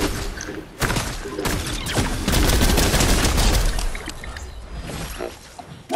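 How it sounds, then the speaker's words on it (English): Rapid bursts of gunfire crack and rattle in a Fortnite match, a dense loud fusillade of shots in the middle with scattered single reports before and after. "Oh, more shots."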